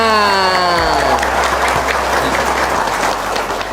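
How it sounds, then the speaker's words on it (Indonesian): Steady, dense audience applause fills the whole stretch, loud and continuous, opening over a fading sustained musical chord. "Kurang semangat tepuk tangannya."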